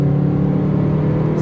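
An Opel Corsa B GSI engine sounds through its exhaust, a close, loud, steady droning rumble with a strong low hum that holds without speech.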